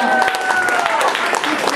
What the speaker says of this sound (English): Let's give an applause to Carden for all her wonderful work.